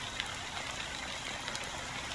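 Steady rain falls in a Honkai Star Rail cutscene, an even, close hiss of drops with faint light patter throughout and no voices.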